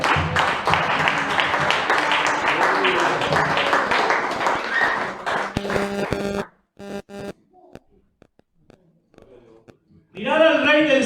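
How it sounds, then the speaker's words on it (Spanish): A church congregation applauding, with dense sustained clapping mixed with cheering voices, then a pause broken by a few sparse claps before voices rise again. "¿Cuántos pueden darle una ofrenda de palmas a Dios?"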